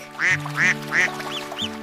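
A duck quacks several times in quick succession, loud and close, each quack nasal and buzzing.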